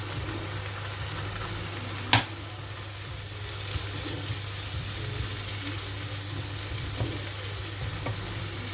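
Peppers and onions frying in a pan give a steady, moderate sizzle under a low hum, with a single sharp utensil clack and a few faint taps.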